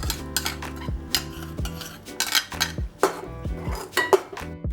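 Metal spoon knocking and scraping against a pot as ground coconut paste is stirred into a Kerala cucumber curry, a series of close, loud clanks and clinks in an irregular rhythm, no voices.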